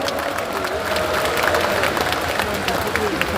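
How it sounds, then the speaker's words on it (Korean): Loud, dense applause from a large crowd at a Korean Democratic Party national convention, with scattered sharp claps and crowd murmur filling the hall steadily from start to finish. "조정식 전국 당원대회장에게 다시 한번 큰 박수 부탁드립니다."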